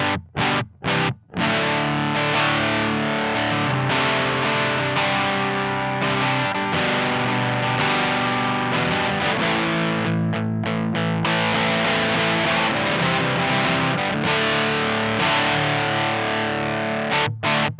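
Electric guitar through a Love Pedal English Woman overdrive pedal at high gain, playing sustained, crunchy chords with a few sharp stops near the start, loud and continuous with no talking.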